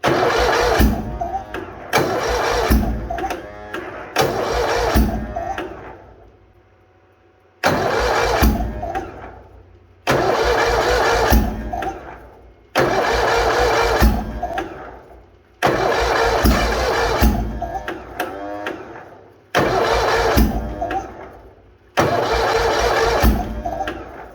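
A Bolens HT-23 garden tractor engine cranks repeatedly in -40 degree cold, seven loud bursts of starter grinding and sputtering firing, each several seconds long and separated by short silent pauses.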